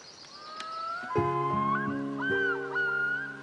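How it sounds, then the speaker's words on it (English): Seagulls calling near the water, a few bright cries and whistle-like calls rising and falling over a quiet background, moderately close. "Birds. That's right, they're seagulls."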